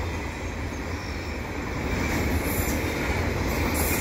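A long CN intermodal freight train rolls steadily through Valois station, a loud continuous rumble of wheels on rail with faint squeals above, unbroken throughout.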